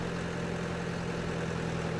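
A tractor engine idles steadily in the Farming Simulator 17 farming game, a constant low mechanical hum with a droning tone, heard alone without talk.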